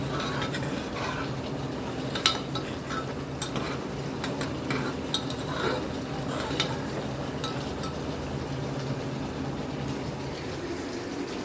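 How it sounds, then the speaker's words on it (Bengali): Meat stirred and cooking in a pan, a soft continuous sizzle with scattered scraping and clinks of a spoon against the pan. "এদিকে আমার বাবুয়ের মাংসটাও হচ্ছে।"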